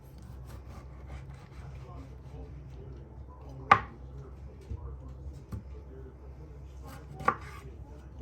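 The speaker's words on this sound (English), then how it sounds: "Just dice it up." A knife chops fresh ginger and tomatoes on a board, with a few light taps and two sharp distinct strikes standing out, while a voice talks faintly in the background.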